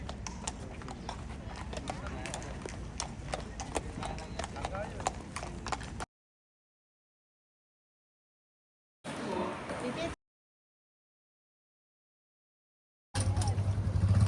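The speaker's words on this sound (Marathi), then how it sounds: "इथं मस्त घोडे वगैरे आहेत" Horses walk near a royal palace grounds, hooves clip-clopping in a loose, continuous rhythm at moderate distance, broken by sudden silent gaps, with voices and faint traffic around.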